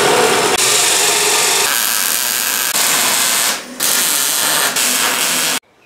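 Power saw slicing wood at an angle for a snowmobile trailer clamshell removal cart, a loud, harsh, continuous cutting roar with a few brief dips as the blade works through, ending abruptly.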